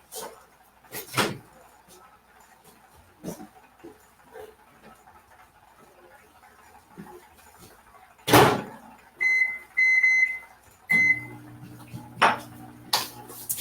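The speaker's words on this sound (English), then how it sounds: "We're going to stick it into our microwave" A silicone steamer holding food goes into a kitchen microwave, with scattered clunks and knocks of handling, a louder door bang, a few short electronic beeps, then the low hum of the running microwave broken by more clatter.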